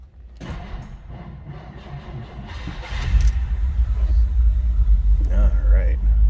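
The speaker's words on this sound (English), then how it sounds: "Let's go ahead and start this car up. Let you hear it run." A 1959 Ford Fairlane 500 Club Victoria's 352 V8 starts up: a voice and scattered noises first, then the engine catches and settles into a loud, deep, continuous rumble.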